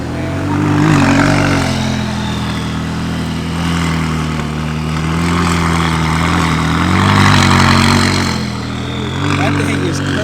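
A McLaren supercar idles at a Houston car meet, a steady deep rumble that swells and eases slightly, with voices murmuring around it.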